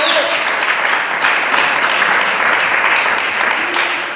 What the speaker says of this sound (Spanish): gloria a Dios por esas palmas